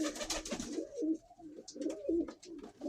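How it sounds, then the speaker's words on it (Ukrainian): Pigeons coo repeatedly in a backyard poultry yard in the morning, several low throaty calls overlapping close by, with soft rustling and a few brief higher chirps in the background. "Голуби розійшлися. Туркують так на всі сторони."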